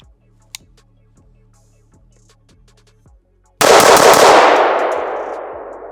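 A single loud, close gunshot from an ATI Omni rifle cracks out after a stretch of quiet mechanical ticking, its report ringing and slowly decaying outdoors.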